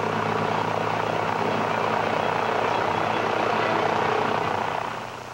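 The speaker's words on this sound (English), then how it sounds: "Plane from New York and the East, arriving 4:20" A propeller airliner arriving from New York drones with a loud, steady engine roar that holds throughout, then fades slightly at the end.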